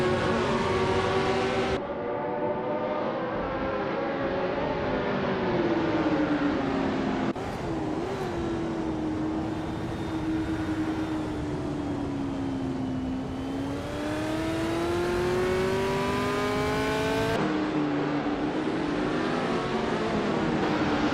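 Race cars in a video game, including a 1968 Surtees TS5, drone with loud, steady engine whine that climbs and falls through gear changes, several cars overlapping continuously throughout.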